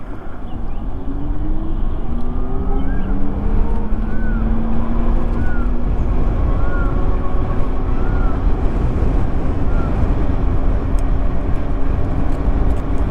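Simple One S electric scooter ridden at top speed in Eco mode, steady wind rush and road noise with rising and falling motor whine tones, continuous and close, with no talking.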